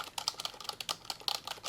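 Steady, rapid typing on a computer keyboard while a Word document is written, close and crisp with an even rhythm of key clicks and no voices.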